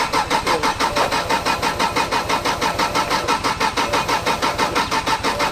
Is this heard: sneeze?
no